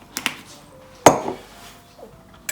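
Fruit salad of papaya and other cut fruit being tossed with black pepper in a bowl: a few sharp clinks of a spoon against the bowl, one loud close knock near the middle, then quieter scraping and a last clink.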